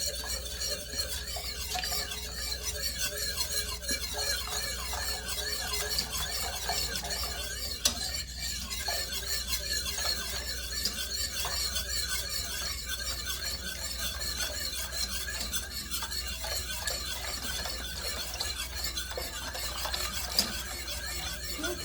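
A whisk stirs a flour sauce in a pot for lobster-crab Newburg, a steady scraping and swishing that runs continuously at close range with a faint background hiss and no talk.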